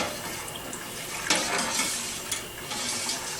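Culture being stirred into milk in a pot for homemade Colby cheese, a quiet continuous swishing with a few soft scrapes and splashes, no voices.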